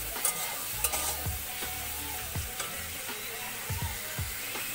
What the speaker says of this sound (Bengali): চিংড়ি মাছটা ভাজা হচ্ছে